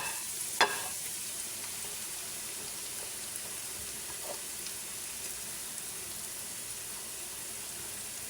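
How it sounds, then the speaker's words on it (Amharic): Carrots fry in oil with cumin, giving a steady, even sizzle with a single sharp clink of a utensil near the start, all close and without talk. "ካሮቱን ጠብሳለሁ ከዝሚሙ ጋር ነው።"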